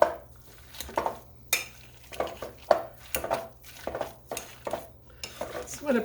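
Roasted sweet potatoes being mashed with a potato masher in a bowl, giving repeated soft squelching presses with light clinks of metal against the dish, steady and close.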